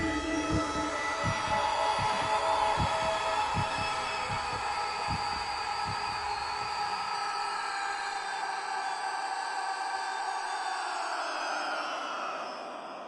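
A loud, steady heartbeat sound effect plays as a repeating low thump through most of the stretch at a tabletop Pathfinder game, with a droning hum layered over it, until the beats stop and the drone fades toward the end.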